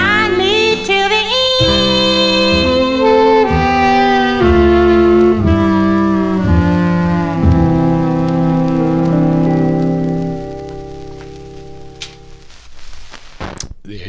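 A 78 rpm shellac record on the King label plays a debut single: a melodic vocal line over accompaniment, loud and clear, ending with a sustained final note that fades out, then a brief thump.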